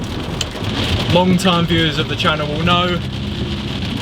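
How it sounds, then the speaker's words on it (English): Heavy rain falls on a 2.0 TDI Audi, a constant close hiss and patter on the car that carries on beneath someone talking. "It is really raining."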